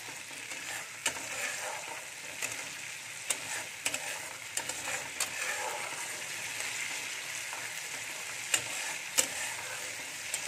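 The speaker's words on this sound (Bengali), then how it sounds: "টমেটোর পেস্টটা দিয়েও খুব ভালো করে কষিয়ে নেব" Spice masala with tomato paste frying in a pan, a soft, fairly quiet steady sizzle with occasional sharp scrape and clink accents from stirring, no voices.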